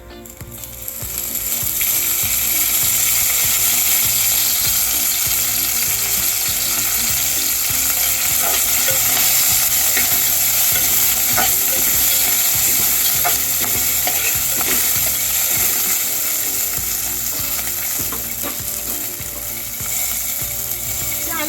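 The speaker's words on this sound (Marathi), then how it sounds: "मिरच्या थोड्या अशा ह्या एका साईडला करायच्या गॅस मंद करायचा आणि त्यामध्ये अगदी थोडं म्हणजे एखाद चमचाभरच तेल घालून घ्यायचं" Roasted green chilies fry in a spoonful of oil in a pan over low heat, giving a steady, busy crackle and sizzle with scraping stirs, close and continuous, with no talk.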